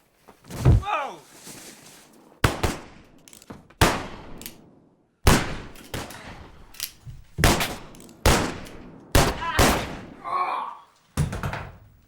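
Gunfire rings out in an Old West film shootout, a series of sharp, loud shots scattered irregularly over a dozen seconds with ricochet-like tails and background film sound between them.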